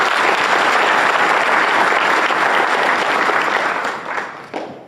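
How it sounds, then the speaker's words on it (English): A hall of fame ceremony audience at Fairview High, Tennessee, breaks into loud, dense applause that holds steady and then thins out and fades over the last second. "give them a round of applause."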